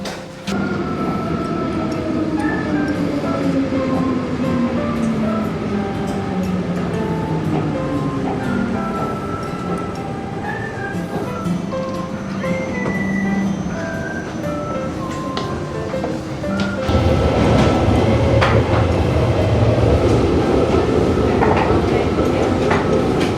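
A train rumbles and clatters along with drawn-out squeals and tones, growing louder and denser toward the end as it moves through a station on the Uetliberg line in Switzerland.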